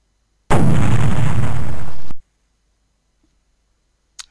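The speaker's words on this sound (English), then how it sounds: "I've replaced it with just an explosion sound effect" One loud, meaty explosion erupts and roars for under two seconds, then cuts off abruptly into silence, with a tiny click afterward.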